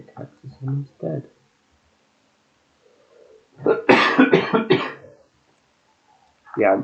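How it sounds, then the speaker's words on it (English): A few rough coughs and throat-clearing sounds come close to the mic, with a burst of speech-like voicing and quiet pauses between them. "I'm so sorry about the coughing."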